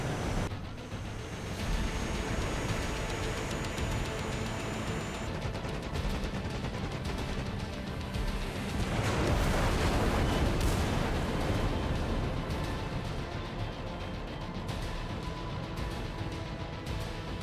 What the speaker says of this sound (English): The napalm goes straight through the position.